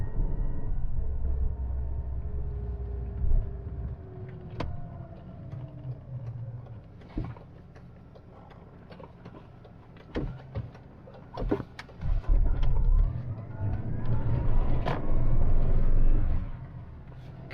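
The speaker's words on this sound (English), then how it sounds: "it sounds like an utterly uninspiring Japanese saloon, but it's a massive pickup" Engine of a Great Wall Wingle pickup fitted with a camper body, running steadily while driving on the road, a continuous low drone with occasional knocks and rattles from the load behind.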